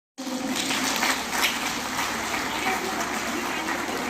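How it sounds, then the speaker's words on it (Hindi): Audience at a Maharishi Vidya Mandir school annual function breaks into sudden, loud, sustained clapping that stays dense and even to the end, with a voice faintly present beneath it. "तालियों के साथ"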